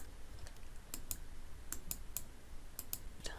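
Computer mouse clicks while working in an Excel spreadsheet, a dozen or so quiet crisp clicks in small clusters, some in quick pairs, close by over a low steady room hum with no talking.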